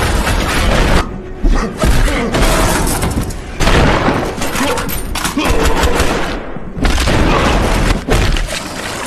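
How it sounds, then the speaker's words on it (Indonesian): Troops open fire in a film battle scene, sustained loud gunfire and booming blasts filling the whole stretch in dense, continuous bursts with brief gaps. "di mana semua pasukan langsung menimbakinya, yang membuat pertarungan brutal tak terhindarkan lagi"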